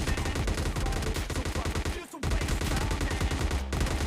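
Rapid gunfire from an MK14 marksman rifle in the mobile shooter PUBG Mobile Lite, loud and dense bursts of shots filling the clip, broken by a short pause near the middle before firing resumes.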